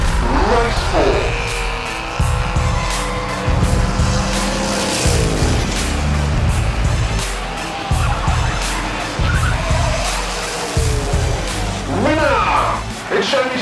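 Scale model race cars, including a 32 Ford, racing on a track, with buzzing motors, repeated tire squeals and skids in bursts, and an announcer talking over the action.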